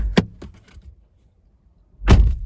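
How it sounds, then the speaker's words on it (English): A Nissan Versa S car door opens with a short clunk and rattle, a pause of near silence, then shuts with a loud, solid thud. "now this time I'm going to shut it off, open the door,"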